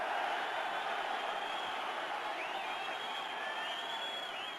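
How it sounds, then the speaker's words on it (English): Steady, dense crowd roar from Widnes supporters at a 1990-91 Regal Trophy rugby league match against Warrington, a broad sustained swell of massed voices that holds for several seconds with faint whistles riding on top. "Roar from the Widnes crowd."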